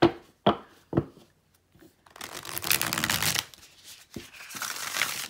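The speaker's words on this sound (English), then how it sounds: "Nice shuffle, nice bridge." A deck of thick, flexible cardstock cards is handled: a few crisp snaps, then a riffle shuffle that whirs for about a second, a brief bridge cascade and a final clack, with no talking.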